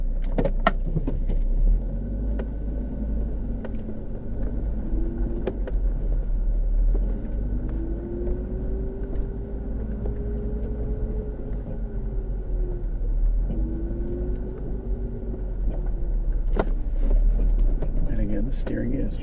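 A 2006 Volvo V70R reversing on a dirt road, heard from inside as a steady low engine rumble with rising and falling whine from gear and motor, continuous throughout.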